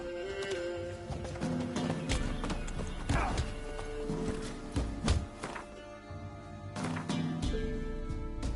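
Horse hooves clip-clopping at a steady pace in The Witcher 3, mixed with game music and ambient noise, with a brief snort or whinny and occasional voice.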